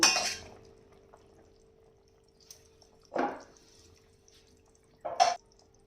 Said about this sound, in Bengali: ঝোল ফুটে উঠেছে। এবার আমি মাছগুলোকে দেবো।